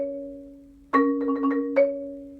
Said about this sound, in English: When you play it up to tempo, it sounds like a roll with some space before the next attack.